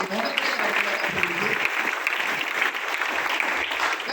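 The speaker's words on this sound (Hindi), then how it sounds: "तो एक बार जोरदार ताली" Steady, dense applause from an audience at a testimony talk, a continuous wash of many hands clapping at even loudness for the whole stretch, with no voices on top.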